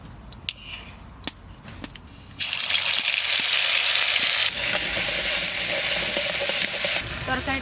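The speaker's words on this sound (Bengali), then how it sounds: "ফোড়ন দেব, তেল দিচ্ছি, সর্ষের তেল, জিরে, তেলের উপরে জিরে বাটা দেবো" Ground cumin paste dropped into hot mustard oil bursts into a loud, steady sizzle partway through, hissing on continuously after a few quieter kitchen clatters and taps.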